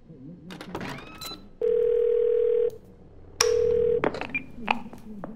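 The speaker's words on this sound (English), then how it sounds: "we're going to whip out the phone, ring Bumble Boon" Phone in the game Twelve Minutes: two long, steady electronic ring tones, each lasting about a second, separated by a short gap, with clicks and handling noises before and after and a little speech.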